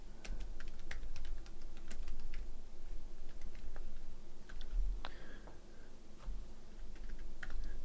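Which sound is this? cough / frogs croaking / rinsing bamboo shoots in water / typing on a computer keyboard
typing on a computer keyboard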